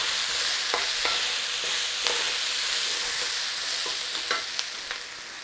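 Loud, continuous sizzle of Mongolian chicken and vegetables stir-frying in sauce over a high flame, with scattered clicks and scrapes of stirring in the pan and no talking.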